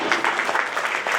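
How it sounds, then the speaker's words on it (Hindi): An audience applauds volunteers at a statue unveiling ceremony for Yogacharya Sadashiv Nimbalkar. A short burst of dense, steady clapping is heard from a crowd. "उन सभी के लिए जोरदार तालियां।"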